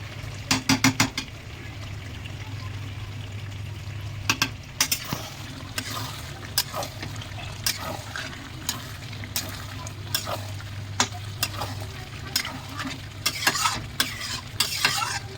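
Chicken curry with ground garam masala sizzles in a pan on a gas stove, with steady frying hiss and repeated scraping stirs and clinks of the spoon against the pan, close and alone without talk.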